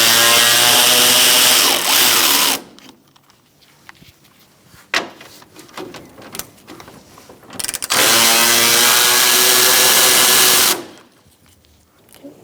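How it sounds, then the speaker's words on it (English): A power ratchet or impact tool spins out radiator bolts with a 12mm socket on a 2014-2018 Subaru Forester, two loud sustained whirring bursts of about three seconds each, separated by quieter clinks and handling noises. "We're gonna take out these bolts on either side to remove the radiator and condenser and fan all at the same time."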